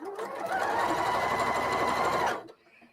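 A sewing machine chain-piecing fabric runs in one steady, close and loud burst for about two and a half seconds, then stops abruptly, leaving only faint room sound.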